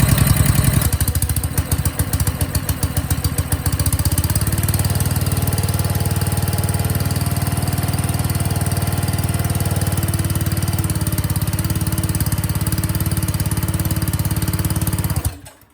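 A small engine on an auction-bought hydraulic power pack, run cold with the choke on, chugs loudly and unevenly, settles into a steady drone, then abruptly cuts out and stalls near the end.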